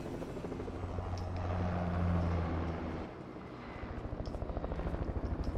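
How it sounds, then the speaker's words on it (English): A helicopter in a video game thrums with a low rotor drone, then shifts to a rapid rhythmic chopping that grows louder toward the end, with faint game sounds on top. "I do not trust people in choppers."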